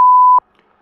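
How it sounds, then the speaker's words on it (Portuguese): A single clean electronic tone, steady in pitch, sounding for under half a second and then stopping abruptly into silence. "Após o bip, deixe uma notícia agradável."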